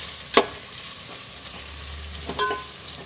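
Tomatoes softening in hot oil for Muslim-style kushka rice, with a steady sizzle under two sharp scrapes of a spoon stirring the pan, close and fairly quiet, no talking.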